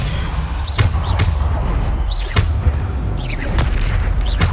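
Bombarda blast spells go off in the video game Hogwarts Legacy as a run of loud, heavy booms and thuds at uneven intervals over a dense game soundscape.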